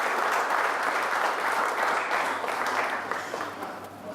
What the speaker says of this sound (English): let's have a round of applause for the KP24 Foundation.